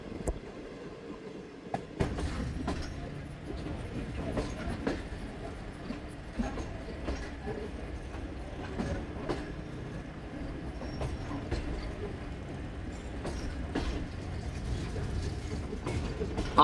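Bahauddin Zakariya Express train rolling along the rails between Multan and Rohri, heard from inside with continuous rumble, rhythmic clanks and rattling joints over sixteen seconds.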